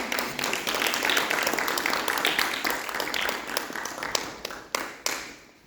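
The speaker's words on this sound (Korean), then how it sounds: "다시 한번 힘찬 박수를 드립니다" Applause from a church congregation, a dense steady clapping that fills the room and then thins out toward the end, with a few louder individual claps standing out.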